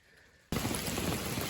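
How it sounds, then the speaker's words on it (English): Rain suddenly starts drumming on a tarp at an Appalachian Trail campsite, a dense, close, steady patter that swells in after a quiet moment. "Shockingly, it's raining again."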